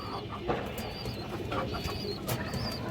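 Pigeons in a loft cooing softly amid a busy background of flutters and shuffling, with a few brief higher chirps; close and continuous, no talk.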